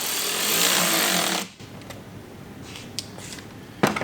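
A power tool drives mud flap screws tight on a 2010–2015 Audi Q7, a loud buzzing whir that stops abruptly partway through, followed by quieter background and a couple of small clicks.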